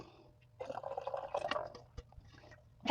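Beef broth poured from a container into a glass canning jar, a soft liquid trickle and gurgle lasting about a second, quiet and close, then a brief clink near the end.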